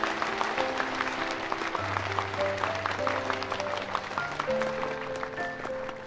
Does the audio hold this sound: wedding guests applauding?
yes